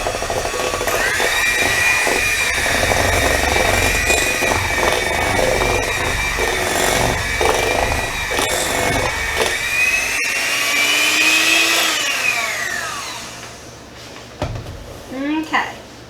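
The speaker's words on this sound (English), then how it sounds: "I think I'm going to use my mixer" An electric hand mixer whirs steadily, blending a pudding layer for a cake, a sustained close motor whine that winds down near the end, with a voice speaking over it.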